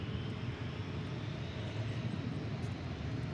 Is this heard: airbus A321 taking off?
yes